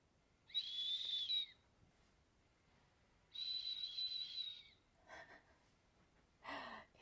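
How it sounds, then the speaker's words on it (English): Two long, steady high-pitched dog whistle blasts about two seconds apart, fairly loud and close, followed by a couple of short breathy puffs. "It's a dog whistle."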